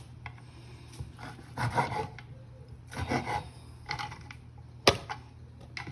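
A knife slices beef thinly on a cutting board, trimmed of fat, for Nom Tok Neau: soft rasping cuts come in short bursts about a second apart, with one sharper tap near the end, close and fairly quiet.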